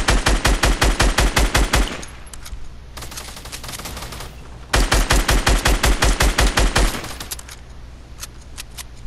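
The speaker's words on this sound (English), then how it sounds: "Start shooting all the trees out." Automatic gunfire in the video game Fortnite rips out in two long rapid bursts, loud and close, separated by a few seconds of quieter scattered shots.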